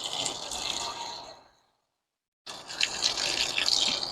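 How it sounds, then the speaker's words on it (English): Water gushes steadily from a garden hose tap, cuts off into a brief silence, then rushes back on at a moderate, close level. "Let's go ahead and turn our water on."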